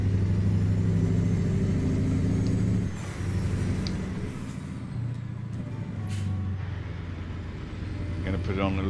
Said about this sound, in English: Gonna put on a little retarder too here, actually. So it's holding me back a bit.